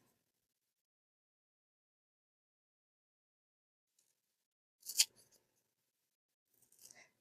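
Two layers of cardstock are torn by hand at an angle, heard as a short, crisp tearing burst after a long silence and then a second briefer rip, both close and quiet.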